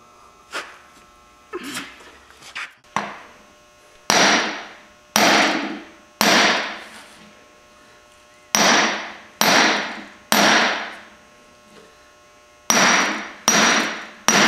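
A hammer pounds on a semi trailer brake hub, with a few lighter taps first, then loud, ringing metallic strikes landing one at a time in small clusters, each decaying quickly, with no talking.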